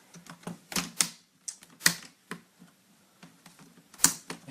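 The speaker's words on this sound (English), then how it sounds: "Using your fingernails, carefully remove the bezel, the plastic bezel" Sharp plastic clicks and snaps, irregular and close, come as the plastic bezel is pried off an Acer Aspire One NAV50 laptop screen with fingernails.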